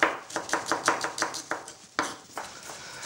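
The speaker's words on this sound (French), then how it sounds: "j'ai fini de couper finement mes échalotes" Rapid, steady knife taps on a cutting board finely dicing shallots, a dozen or so crisp chops in quick rhythm with a few brief pauses, close and clear.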